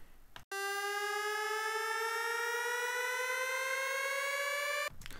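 A standard EDM build-up preset with a siren-like tone: one loud, sustained synth note rich in harmonics, sliding slowly upward for several seconds alone, then cutting off abruptly.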